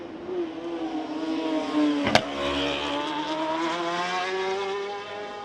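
A racing motorcycle on a hot qualifying lap at the Macau Grand Prix, its engine revving high with a rising and falling whine, one sharp short crack partway through, then pulling on steadily at close range.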